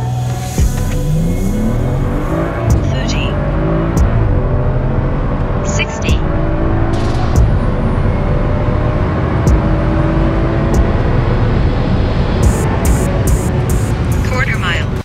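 A BMW F30 running an E85 ethanol mix and accelerating hard in a timed run, with a loud continuous engine roar inside the cabin and someone talking over it.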